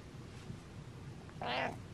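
A single short cat meow rises near the end, close and fairly loud over a steady low background hum.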